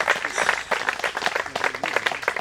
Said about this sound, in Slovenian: Prišli so peš od šole do Žičke kartuzije v tej vročini, kar tudi zahteva poseben potem aplavz.